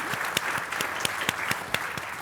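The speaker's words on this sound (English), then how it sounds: "we really need to give her a round of applause" Conference audience applause fills the hall with steady, moderately distant clapping from many hands, sharper individual claps popping out at intervals.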